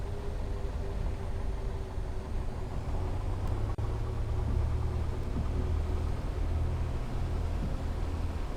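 The engine of a Piper Cherokee in a flight simulator idles with the throttle pulled back while taxiing, a steady low rumble and drone that holds evenly throughout, with a faint higher whine above it.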